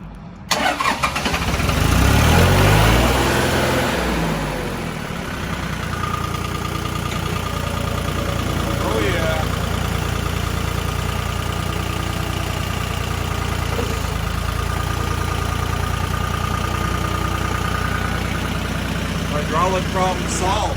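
A John Deere tractor engine cranks and catches loudly, then settles into a steady, rumbling idle that holds close and constant for the rest of the stretch.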